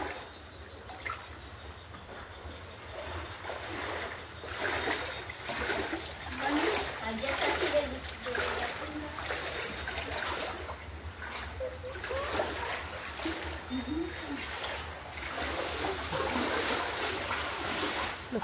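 Floodwater sloshing and splashing inside a room of a house flooded by overflowing rivers, a continuous wet churning with irregular splashes up close, with someone talking intermittently over it.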